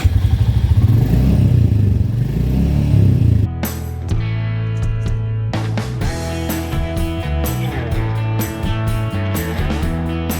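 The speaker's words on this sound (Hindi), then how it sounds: "हम भी जा रहे हैं बाइक लेकर अपनी" A motorcycle engine rumbles with a low, pulsing throb for the first few seconds, then gives way to clattering, tonal sounds that partly mask it.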